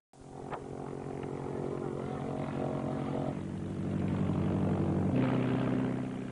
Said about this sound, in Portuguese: Hora da decolagem.